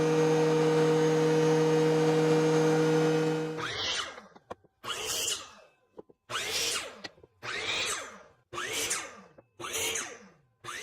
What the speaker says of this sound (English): I'm going to run it through the planer to make it smooth and get it down to the final thickness.